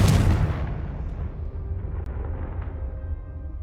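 A Confringo fire spell explodes in the Hogwarts Legacy game on Xbox Series X: a loud, close boom bursts at the start and then rumbles away into a long, fading roar.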